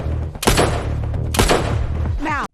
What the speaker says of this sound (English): so Victoria pins Cooper and the FBI team down with gunfire